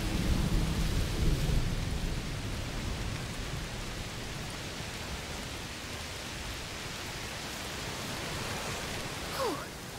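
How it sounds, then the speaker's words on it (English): Heavy rain pours down in a stormy scene from the video game A Plague Tale Requiem, a dense steady hiss with low thunderous rumble strongest at the start, close and enveloping, with a brief sharp sound near the end. "Oh, it's raining a lot."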